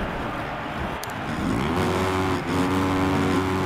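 A Yamaha dirt bike in the Supercross 6 racing game at San Diego, its engine droning steadily, then rising in pitch as it revs harder.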